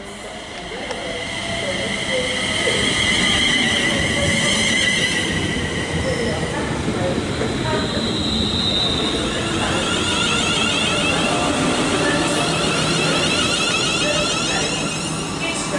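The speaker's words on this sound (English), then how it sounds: "arriving now is the 1154 London Northwestern Railway service from London Euston to Crewe" A London Northwestern Railway Class 350 electric train on the 11:54 London Euston to Crewe service pulls into a platform at Nuneaton, with steady loud rolling rumble, hiss and high wheel squeal throughout.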